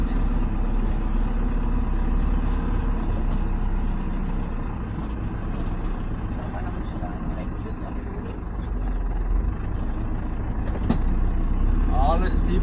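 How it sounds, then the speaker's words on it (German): A 4x4 vehicle on a mountain dirt track descends into a riverbed, its engine a steady, close, loud rumble that dips briefly in the middle and swells again, with faint rattles. "ich fahre jetzt da unten ins Flussbett"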